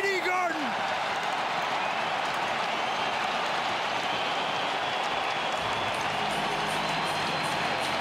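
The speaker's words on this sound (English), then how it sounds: "Listen to the crowd at TD Garden." Arena crowd at a TD Garden hockey game roaring and cheering in a steady, dense wash that stays loud throughout, with no break or lull.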